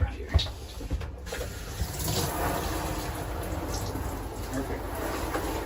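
Water sprays steadily from a shower head inside a travel trailer's bathroom, a soft continuous hiss at moderate distance, with a few knocks and handling noises near the start.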